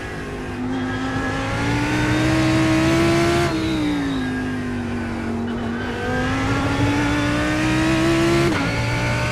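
Lamborghini race car in the iRacing sim, its engine holding a loud, steady high-revving whine that rises and dips in pitch through shifts and corners, with no talk over it.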